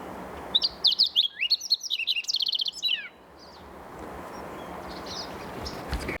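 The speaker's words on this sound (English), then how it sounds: "Fox sparrow has this rich, beautiful song." A fox sparrow sings on a mountain stretch of the Pacific Crest Trail: a rich, liquid run of quick, clear notes for about three seconds, close and loud, then fading to soft wind and ambient hiss.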